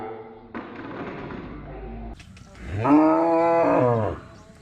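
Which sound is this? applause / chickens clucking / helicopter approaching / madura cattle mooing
madura cattle mooing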